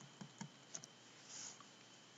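A few sparse, faint clicks of keys on a computer keyboard, isolated taps spaced irregularly against a quiet room hiss, with no voices.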